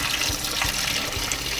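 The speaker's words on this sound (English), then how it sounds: "I'm just gonna quickly rinse the rice. Just a few times till the water runs a little clear." Tap water pouring and swirling over rice in a pot, a steady, close splashing flow with faint sloshing bumps as the grains are rinsed.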